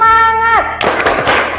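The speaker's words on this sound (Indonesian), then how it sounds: "Tepuk semangat." Pupils in a classroom perform a rhythmic spirit clap, a quick cluster of sharp, close hand claps that follows a sustained spoken or chanted call.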